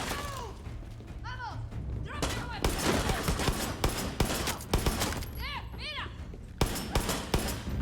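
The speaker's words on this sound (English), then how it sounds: "Can't do that though while they're all shooting at me." Gunfire from soldiers in the Far Cry 6 video game, with dense bursts of shots, heavy thuds and breaking sounds layered over game effects and someone talking throughout.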